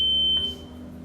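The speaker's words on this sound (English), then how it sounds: "You will see set candidate flashing with a beep sound." A single electronic beep from an electronic voting machine as its display flashes while candidates are set, a sharp steady tone lasting about a third of a second over a low background hum.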